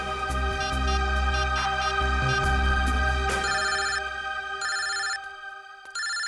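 A phone ringtone plays loud and close, a melodic electronic jingle repeating in bursts, then thinning into shorter beeping tones before cutting off, with no talk.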